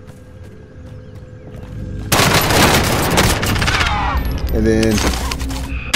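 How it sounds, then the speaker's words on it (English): Gunfire erupts in a Warzone battle royale solo match: after a quiet stretch with a brief spoken word, a sudden loud burst of rapid, overlapping shots rattles on for several seconds. "This guy shot me right in the back."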